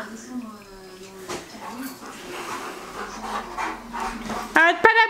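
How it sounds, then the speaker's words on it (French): A bored, restless pet dog pants rapidly and whimpers close by indoors, with a faint voice murmuring in the background and a sharper yelp near the end. "Arrête pas d'aboyer."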